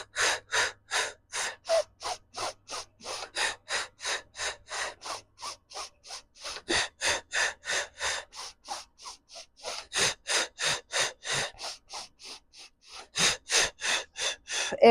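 Heavy rhythmic breathing during a mat Pilates exercise, a long run of loud close exhales in quick regular pulses with short pauses between sets.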